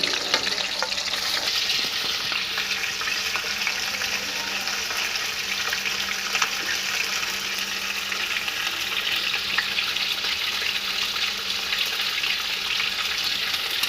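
Chicken meat fries in a karahi over an open fire, a loud, dense sizzle that holds steady for the whole stretch, heard up close with no voices.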